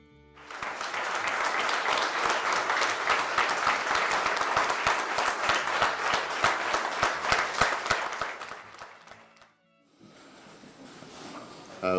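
A large crowd breaks into loud, sustained applause with cheering at an announcement of a harvesting rights agreement with the Ontario government. The clapping swells for about eight seconds, then fades, and quieter room noise follows.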